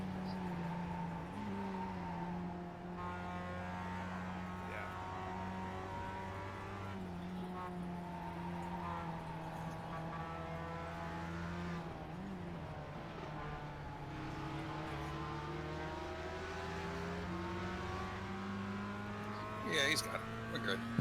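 Porsche race cars in the iRacing Clubsport Series at Mosport rev and drone as they pass, their engine notes rising and falling in overlapping waves over about twenty seconds while commentators talk.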